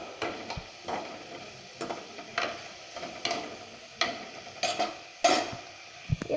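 Onions and green chillies frying in oil with ginger, stirred in a pan with a rhythmic series of scraping strokes about once a second over a faint sizzle, with no talking.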